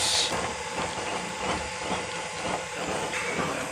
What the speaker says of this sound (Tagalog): Pag nilakas nyo yung blower, maganda ng apoy.